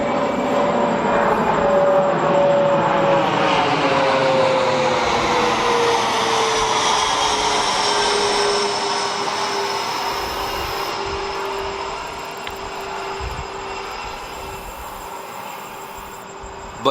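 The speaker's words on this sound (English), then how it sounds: "It's airplane time. We're gonna let them pass." An airplane passes overhead as a loud, steady roar with a slowly falling pitch, easing off gradually toward the end with no talking.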